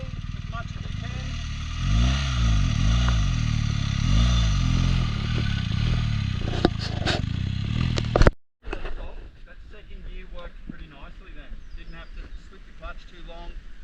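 A BMW motorcycle rides through sand with its rear wheel spinning: a close, rumbling engine with rising and falling revs and clattering, then a sudden cutout followed by rough, gritty scraping and distant noise.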